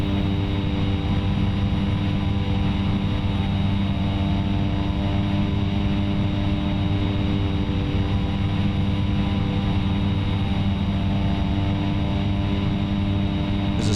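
Steady, loud droning hum of an airplane engine in the flight simulator X-Plane 11, with a propeller-like tone running unbroken and unchanging for the whole stretch, no voices over it.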